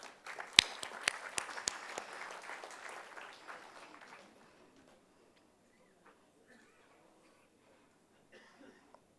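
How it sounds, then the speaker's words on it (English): Scattered, sparse clapping at a GST national conference in Pune, welcoming dignitaries to the dais; individual claps ring out for about four seconds, then fade to near silence with a few faint sounds. "Please give a round of applause"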